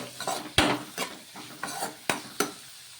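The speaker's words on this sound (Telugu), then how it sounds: "వేసుకొని ఒకసారి బాగా కలిపేసుకుందాం" Onions and a piece of ginger being stirred in a pan, with about half a dozen distinct scraping strokes of a spoon at an uneven rhythm over a soft frying sizzle, close by.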